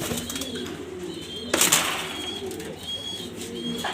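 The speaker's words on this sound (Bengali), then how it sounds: "চার পিস কবুতর" Four domestic pigeons cooing close by in soft, low repeated calls, with a brief burst of wing flapping in the middle.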